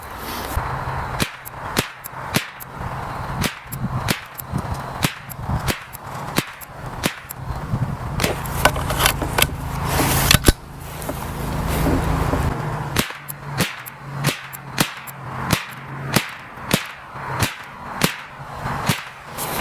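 Twenty-odd sharp .22LR rifle shots, Aguila 40 grain ammunition fired from a precision rifle as a 10-shot group string, crack at irregular intervals of about a second, close and loud, with a low hum and handling noise between them.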